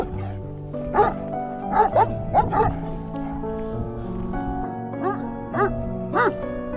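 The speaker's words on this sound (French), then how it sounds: "les incontournables chiens de protection qui veillent sur le troupeau" Livestock guardian dogs bark and yip in short bursts beside a sheep flock on a mountain pasture at the Col d'Ornon, fairly close, mixed with whimpers and a sustained musical drone.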